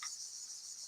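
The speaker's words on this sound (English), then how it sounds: "Oh, cicadas." A steady, high-pitched insect drone holds evenly throughout, a continuous buzzing chorus of cicadas with no voices present.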